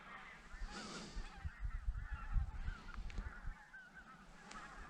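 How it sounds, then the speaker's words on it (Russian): A huge flock of geese flying very high overhead, honking in a continuous distant chorus of overlapping calls with no talk. "Гуси. Огромная стая гусей."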